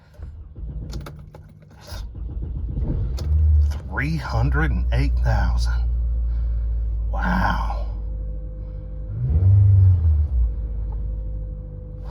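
A 2003 Toyota Camry LE with about 300,000 miles has its engine cranked and settling into a steady low idle rumble inside the cabin, while someone speaks briefly over it.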